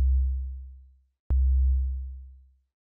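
Two deep bass pad synth notes made in Vital, with sustain held and a release of about a second, each swelling in then fading smoothly to silence, the second entering after a brief gap with a sharp click at its onset.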